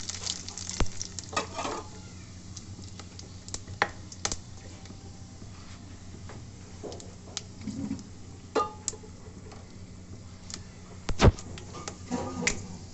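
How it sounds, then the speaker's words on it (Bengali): Panch phoron, garam masala and bay leaves are dropped into hot oil for tempering a chana dal dish, giving a soft, low sizzle with scattered sharp crackles and pops over quiet, fairly faint background. "পাঁচ ফোড়ন, গরম মশলা সব ফোড়নে দিয়ে দিলাম, তেজপাতা দিয়ে দিলাম"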